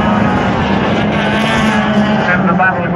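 Stock cars racing at Waterford Raceway, a loud continuous engine roar with steady droning tones and wind buffeting, as a commentator talks over the noise.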